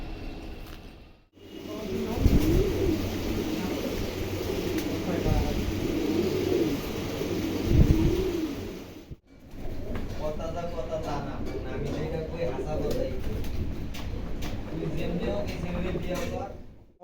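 A brooding breeding pair of racing pigeons gives soft, repeated low coos in bursts, close by, with two brief quiet gaps and a faint steady background hum.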